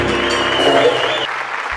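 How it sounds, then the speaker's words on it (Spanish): A brief burst of audience applause at a 2015 tour concert, mixed with sustained tonal sound, cutting off abruptly after about a second and a half. "Así que vamos, un aplauso"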